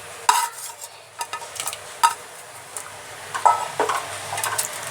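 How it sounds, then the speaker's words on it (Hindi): A spoon stirs kheer of milk, rice and chopped dried dates in a pot, scraping and clinking against the metal in irregular strokes over a soft simmering hiss. "थोड़ी देर हम इन्हें हिलाते रहेंगे, क्योंकि छुहारे डालने के बाद अक्सर दूध फट जाता है"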